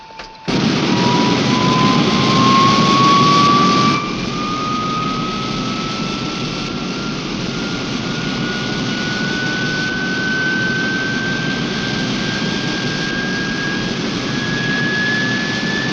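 A four-engine jet airliner roars loudly at takeoff power, a rising whine sweeping upward over a dense, steady broadband rush that drops slightly after a few seconds and then holds close and continuous, with no talk.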